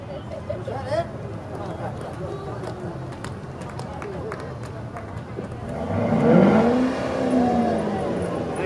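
Corvettes rev their engines while rolling in a small-town irrigation festival parade, a rising roar building from a steady idle rumble amid crowd chatter and someone talking.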